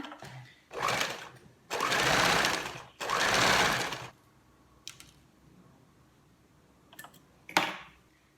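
Sewing machine running over a folded fabric hem on a single-strap top, three loud close bursts of rapid stitching back to back, then quiet with a couple of faint clicks and one short final burst.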